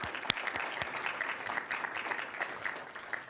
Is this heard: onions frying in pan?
no